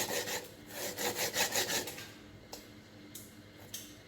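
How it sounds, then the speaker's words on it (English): Coconut flesh scraped on a very sharp hand grater, a run of rhythmic rasping strokes up close that stops halfway, leaving quiet room sound with a few light knocks. "I'm going to start now to juice my coconut."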